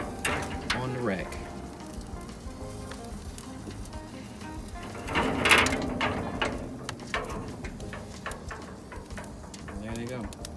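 Pork chops sizzling on the rack of a charcoal smoker, a steady frying crackle with metallic rack clanks and a louder burst midway, under a voice talking.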